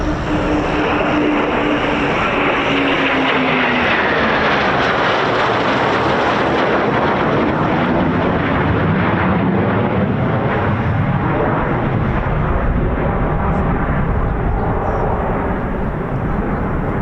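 Two Eurofighter Typhoon FGR4 jets rolling in at RAF Coningsby make a loud, close, continuous engine roar that fills the whole stretch with a slowly shifting sweep of tone.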